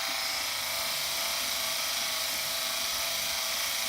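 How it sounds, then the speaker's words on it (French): A FaceSpa electric facial epilator runs steadily on its own, giving a continuous high-pitched motor whine with a dense buzzing hiss that stays even and close for the whole stretch. "d'utiliser l'épilateur dans le sens inverse de la pousse du poil, au niveau du sens de rotation"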